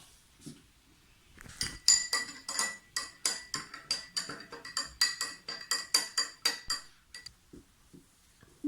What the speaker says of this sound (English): you put the salt in, and then you mix it